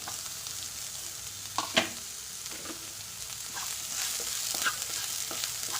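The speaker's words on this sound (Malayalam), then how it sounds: "ഇനി നമുക്ക് അരിഞ്ഞ് വെച്ചിരുന്ന പച്ചമുളക് ഇട്ട് കൊടുക്കാം" Chopped green chillies, added with ginger, sizzle steadily in hot oil in a pan while a spatula makes a few scraping stirs, with no one speaking.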